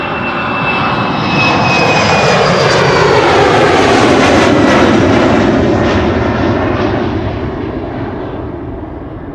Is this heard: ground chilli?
no